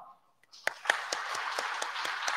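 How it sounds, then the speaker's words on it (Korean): After a brief quiet moment, a church congregation breaks into applause welcoming new staff during a Korean Sunday service, starting with a few sharp claps and swelling into steady, rhythmic group clapping in a reverberant hall. "이 시간 인사할 때 큰 박수로 환영하시고"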